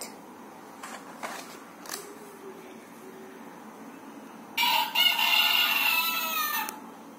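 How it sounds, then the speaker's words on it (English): A cockerel crows from a fence on a farm, one loud drawn-out cock-a-doodle-doo close by, preceded by a few faint scattered clucks and quiet background. "cockerel crawling on a fence."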